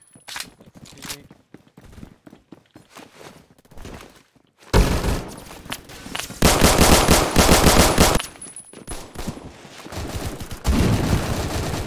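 Automatic gunfire from the Roblox shooter Phantom Forces: a few scattered shots at first, then loud, sustained bursts of rapid fire that keep going to the end.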